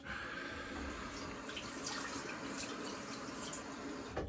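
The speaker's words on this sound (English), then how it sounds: "Just gonna do quick rinse and I'll be back." Tap water runs steadily into a sink for a quick rinse during a wet shave, a continuous close splashing rush with no voices over it.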